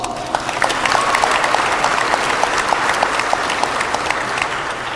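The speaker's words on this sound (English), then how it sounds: "Give yourselves a round of applause." Audience applause from a crowd at a conservative political gathering, a dense, steady clapping that carries for the full five seconds, fairly loud and close, with no speech over it.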